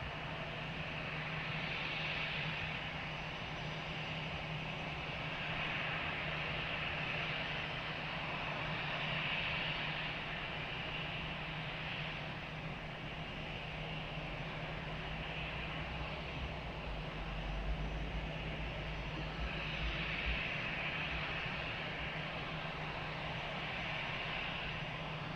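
An airplane takes off from runway 20 at Lisbon Airport, its engines heard from a distance as a faint, steady roar that holds across the whole stretch with a low rumble beneath.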